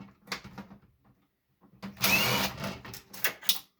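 A power driver whirs in short bursts while backing screws out of a fax machine being scrapped, a brief rising whine followed by clicks and rattles, close up, with quieter handling noise before it.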